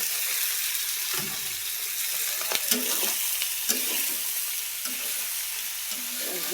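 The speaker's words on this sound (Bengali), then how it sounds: "ডিমগুলো ভুনো হয়ে গেছে, এখানে আমি পাস্তাগুলো ঢেলে দিচ্ছি" Pasta being tipped into scrambled eggs frying in a pan, giving a continuous loud broadband sizzle with a few soft stirring knocks and scrapes, close up, no talking.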